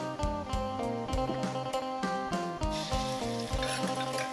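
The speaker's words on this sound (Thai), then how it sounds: "ใส่พริกกระเทียมที่เขาตำไว้ลงไปพักให้หอมครับพี่น้อง" Steady oil sizzle as pounded chili and garlic fry, with a spatula scraping and clanking against a pan in a regular stirring rhythm, close and fairly loud.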